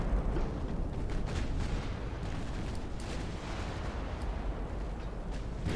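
Naval gunfire in the Ultimate Admiral Dreadnoughts game during a British 1900 campaign battle, a constant rumbling roar broken by repeated dull booms and bursts at a distance.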